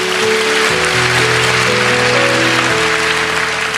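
A church congregation claps together in dense, sustained applause, loud and continuous, with faint tonal music lingering underneath.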